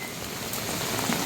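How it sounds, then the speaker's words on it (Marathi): Heavy unseasonal rain pours down in Goa, a dense, constant hiss and patter of drops striking surfaces, loud and continuous with no voices. "मुसळधार पावसामुळे वाहनधारकांची तारांबळ उडाली."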